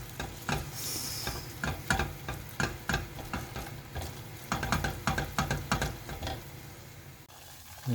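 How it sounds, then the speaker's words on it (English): A butter and flour roux for a bechamel sizzles in a pan while a utensil stirs it in quick repeated scrapes, the rhythmic clicks and soft frying hiss close up and alone. "So a little bit of butter. And a little bit of flour."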